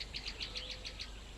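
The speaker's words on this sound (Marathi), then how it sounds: "कधी कधी पक्ष्यांचा पण आवाज येतो" Birds call in a forest, a faint quick series of about seven high chirps over low, soft background noise at a distance.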